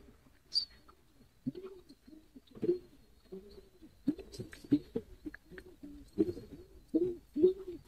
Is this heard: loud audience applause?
no